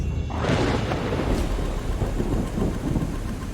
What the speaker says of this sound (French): Alors que la pluie commence à tomber